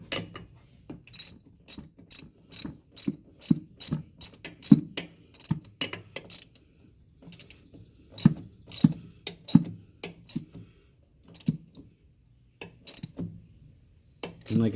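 Ratchet wrench clicking in short repeated bursts while snugging a bolt on an RK19 tractor during service, close and crisp, with pauses between strokes.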